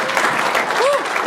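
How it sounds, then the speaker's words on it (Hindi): A studio audience at a comedy game show claps loudly and continuously, a dense, close burst of applause with a few whoops over it. "एक बार जोरदार ताली यार"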